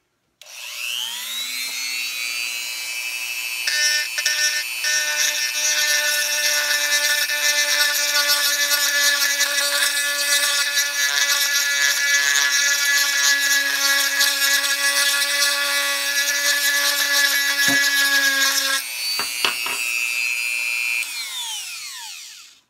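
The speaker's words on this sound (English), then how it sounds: "let's go ahead and pan down and drill some more of it off" A high-pitched rotary drill grinds and sands down a set of dentures, a steady whining buzz that runs alone for about eighteen seconds, then sputters briefly and winds down.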